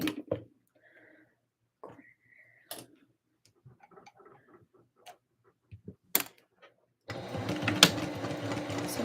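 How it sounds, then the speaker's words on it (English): A sewing machine basting a ruffle onto a Christmas dress in a home studio, a dense, steady run of stitching that starts suddenly near the end after quiet clicks, handling sounds and brief soft talk. "So I'm just going to baste the ruffle in place"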